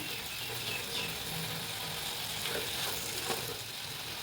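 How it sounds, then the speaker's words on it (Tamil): Tomatoes and tamarind sauté in a pan with a soft, continuous sizzle and occasional faint stirring scrapes, fairly quiet and close, with no one speaking. "புளி சேர்த்து நல்லா வதங்கட்டும்."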